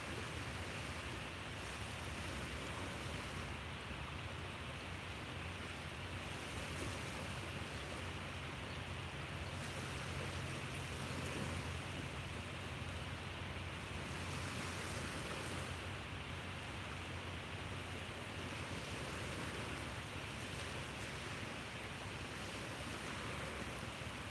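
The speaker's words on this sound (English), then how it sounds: "soak in the sounds of these little baby waves" Small gentle ocean waves lap on a beach at sunrise, a continuous soft wash of surf with slow swells rising and falling, mixed with light wind noise and no voices.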